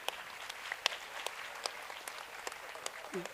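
Scattered audience applause at an Odia drama stage performance, sparse claps and a few louder hand strikes spread irregularly across the moment, fairly faint and roomy with faint crowd murmur.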